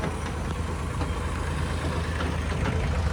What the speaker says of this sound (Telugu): మోటార్లతో అయితే తోడుతున్నారు వాటరు